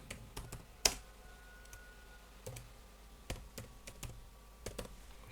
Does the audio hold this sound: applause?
no